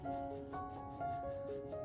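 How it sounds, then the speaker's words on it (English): A plastic model arm is sanded by hand, making a faint, steady rubbing close by with gentle back-and-forth strokes and a quiet background hum. "a little bit of sanding, probably gonna go a long way"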